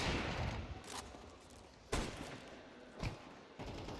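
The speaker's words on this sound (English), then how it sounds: "Danky going to use the AWP." An AWP sniper rifle in Counter-Strike 2 fires in a few sharp, loud cracks spaced about a second apart, each a sudden broadband burst over a background of game ambience.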